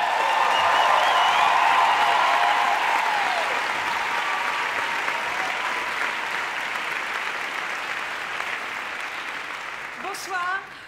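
An audience applauds steadily at an awards ceremony in a theatre, the clapping loud at first and slowly tapering, with a voice speaking briefly near the end.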